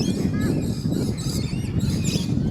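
Birds chirp after the rains in Warwick/Killarney, scattered high tweets and calls over a busy low background rumble, moderately faint, with some voices present.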